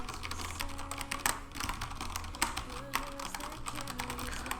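Quick, steady clacking of Corsair STRAFE RGB mechanical keyboard keys with Cherry MX Red switches heard up close, with a few louder individual presses standing out from the continuous typing.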